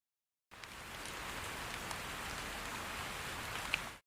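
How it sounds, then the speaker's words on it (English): Steady rain falling, a dense even patter of drops that starts after a brief silence and continues unbroken, no voices. "The sounds we used were the sound of rain,"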